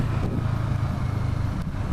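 A CFMoto 650NK motorcycle's engine drones steadily while riding, a continuous low mid-level hum with slight wind rush and no speech.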